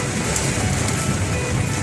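Dense, steady roar of heavy rain pouring down, a loud wash of hiss with no pauses.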